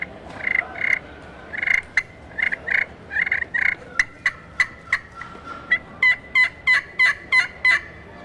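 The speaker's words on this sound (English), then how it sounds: "The cluck and the purr, you're just dragging it." Pot friction turkey call worked by dragging a striker across the surface, giving a string of sharp clucks followed by raspy purrs, loud and close with no talking.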